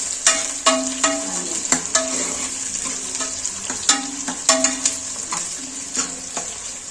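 Ingredients for a chicken gravy fry in a pan with a steady high sizzle, broken by repeated sharp clacks of a spoon stirring against the metal at an uneven rhythm, close by with no talking.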